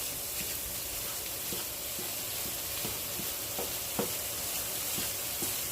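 Corned beef hash simmering in a pan, a soft steady sizzle with occasional crackles and pops, quiet and close with no talking.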